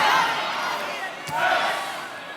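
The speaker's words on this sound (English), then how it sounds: "Crowd rising in unison here in Rec Hall." A volleyball crowd in Rec Hall at State College swells into loud, sustained cheering and shouting, with a brief dip before the noise rises again at full volume.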